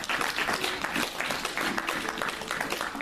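A church congregation applauding during a worship service, a steady wash of many hands clapping that fills the room and continues without a break, moderately loud.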